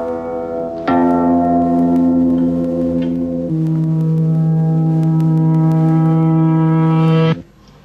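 A tape-spliced, reversed musical note swells up into a loud, sustained wah-like tone, shifting pitch partway through before cutting off abruptly, with no talking over it.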